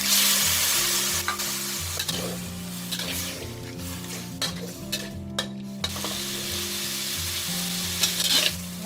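Pork belly sizzles in a pan with a little water for a Thai mixed-vegetable stew, with intermittent stirring scrapes over steady frying hiss and melodic music in the background.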